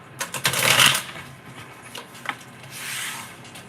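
A deck of oracle cards is shuffled by hand, giving close, crisp riffling bursts early on, then softer brushing and a final flutter of cards.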